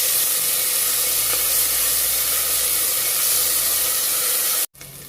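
Ginger garlic paste fries in a pan with a broad, steady hiss and sizzle, loud and unbroken until an abrupt cutoff near the end.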